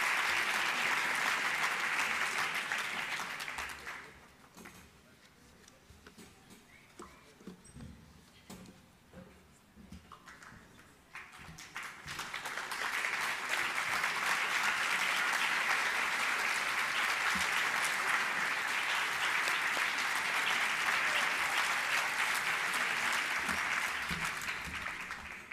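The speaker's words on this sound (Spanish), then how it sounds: "Nuevamente pedimos un aplauso para todos estos jóvenes" Loud applause from a large crowd at a graduation ceremony, fading briefly in the middle before swelling again and continuing steadily to the end.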